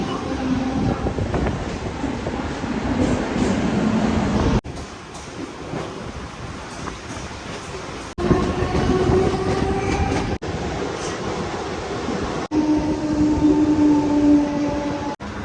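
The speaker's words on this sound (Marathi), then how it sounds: "तर ही बघा ट्रेन लागलेली आहे इथे" A train rumbles loudly and continuously nearby at Airoli station, with rhythmic rattling of wheels and carriages and a few abrupt shifts in the noise.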